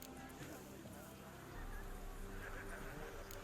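A horse in The Witcher 3: Wild Hunt whinnies while its hooves clip-clop steadily, both fairly close and layered over background game sound with some voices.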